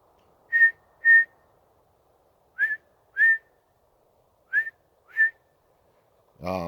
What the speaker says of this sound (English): there was whistles